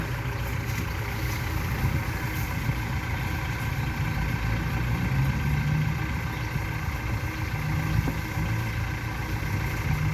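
Farm tractor engine runs steadily at a site being filled for a cattle pen, a continuous low idling rumble with a mid-range drone, close and fairly loud, with no speech heard.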